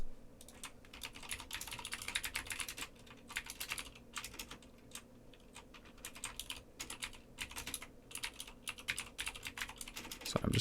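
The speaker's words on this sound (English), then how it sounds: "I'm just typing some things." Rapid, uneven clicking of a computer keyboard being typed on during a live coding session, close and continuous with brief pauses, no talk.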